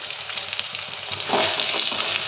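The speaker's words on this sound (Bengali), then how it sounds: "আবারও আরেকবার নেড়ে নিলাম।" Brinjal pieces frying in a pan with turmeric, a dense hissing sizzle with soft stirring scrapes that swells louder partway through, close and without talk.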